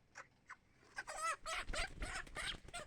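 Broiler chickens on a poultry farm cluck and squawk, a few short calls at first, then a denser run of loud, close clucks from several birds.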